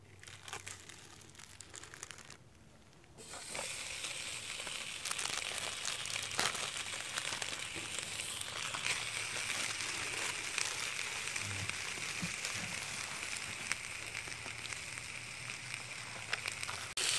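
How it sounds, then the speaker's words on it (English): Two burgers sizzle in a pan on a camping stove outdoors, a dense crackling hiss that starts after a quieter moment and then runs steadily, close and moderately loud. "Pan on the top. Let's see if we can cook a burger."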